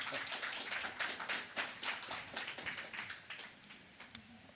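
Audience at a cross-border legal conference in Lagos clapping, a faint, scattered patter of many hands that is fairly dense at first and thins out toward the end.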